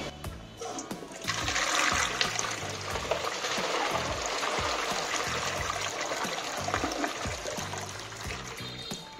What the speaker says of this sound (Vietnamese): Với lần xả nặng này thì lượng nước thoát ra nhiều hơn và mạnh hơn